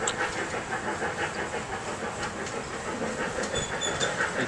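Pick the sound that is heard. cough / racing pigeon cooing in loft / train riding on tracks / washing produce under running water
train riding on tracks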